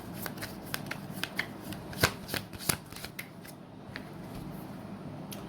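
A deck of tarot cards being shuffled by hand, with a run of quick, crisp riffling snaps and slaps at close range, a few sharper accents midway, then fading quieter toward the end; no clear talking.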